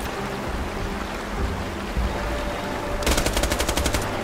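A rapid burst of automatic gunfire from a Borderlands 2 weapon rattles out near the end, sharp and close, after a stretch of rushing, watery ambient noise.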